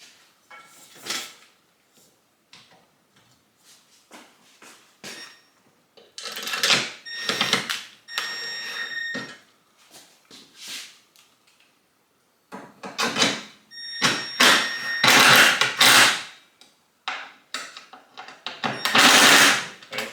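Screws are driven into a computer desk during assembly, heard as close, repeated bursts of whirring and clicking with short pauses between them.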